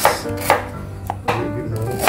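Sharp knife strikes chop galangal on a cutting board at a steady pace, five distinct chops close up, with a faint hum underneath and no talking.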